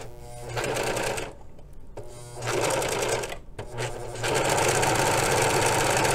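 A serger sews a rolled hem over wire ribbon, its needle mechanism whirring in loud, steady runs that stop and restart three times.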